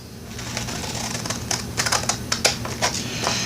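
Scissors cutting across the bottom of printed graph paper pages, a string of soft crisp snips and rustles that grow denser midway, close by over a steady low background hum.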